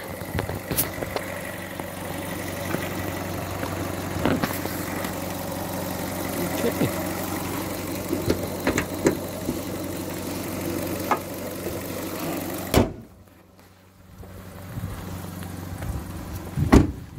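A 2015 Fiat Panda 1.2 8-valve four-cylinder engine idles steadily up close, a low even hum with faint ticks, briefly cut off before resuming.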